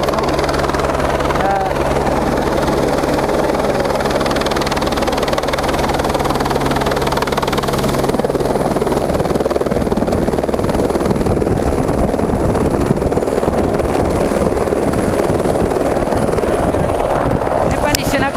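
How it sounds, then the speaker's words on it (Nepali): A Nepali Army helicopter arrives at a landslide site in Lidi, its rotor and engine drone loud and steady throughout, with a low throbbing hum and broadband wash, mixed with people talking nearby. "टक्क नेपाली सेनाको हेलिकप्टर यहाँ आइपुगेको छ।"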